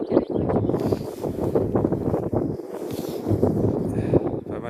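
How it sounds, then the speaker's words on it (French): Strong outdoor wind buffets the microphone in steady, rumbling gusts that stay loud throughout, with faint talk mixed underneath, during a partial solar eclipse viewing. "Pas mal de vent par contre."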